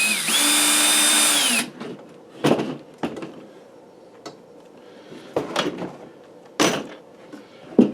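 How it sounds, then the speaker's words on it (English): A handheld drill driver runs in one sustained burst, then several short bursts follow, each a brief whir with clicks and clatter as screws are driven into a wooden mountain dulcimer case, close and fairly loud. "Alright, so we got a drill driver out here."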